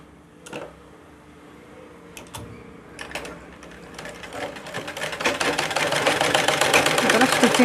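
A sewing machine stitches a cross patti border, starting with a few short bursts and then settling into a steady, fast, loud mechanical whirr that builds toward the end.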